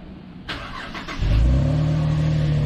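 Car engine starting up, heard close at the rear exhaust: a brief cranking whir, then the engine catches and settles into a loud, steady idle rumble.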